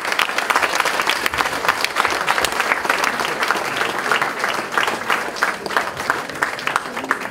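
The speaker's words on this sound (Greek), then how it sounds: "ένα χειροκρότημα στους συναδέλφους από τον Άκτιο οδηγό" Audience applause for colleagues at the 2016 New Year's pie-cutting gathering of Aktios Odigos, a steady dense clapping crowd sustained throughout at close, even loudness, with no voices over it.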